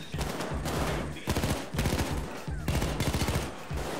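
Rapid automatic gunfire in the heist shooter Payday 2, loud bursts of rattling shots repeating in clusters with brief gaps between them, a voice talking faintly underneath.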